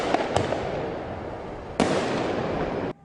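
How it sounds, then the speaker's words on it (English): Legal and illegal fireworks exploding at night during a downtown protest, loud crackling bursts and sharp bangs filling the air, with a second burst of dense crackle later, heard from nearby. "protests heated up alongside the launch of both legal and illegal fireworks"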